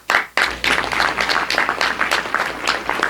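A small studio audience claps to welcome actor Alanzo G Phillips onto a community talk show, a few sharp bursts settling into steady, pulsing applause.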